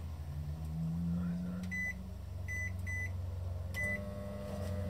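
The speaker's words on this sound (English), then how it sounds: "let's have the microwave as well." A microwave oven hums steadily inside a solar-powered van, a low continuous drone with a few sharp beeps sounding intermittently over it.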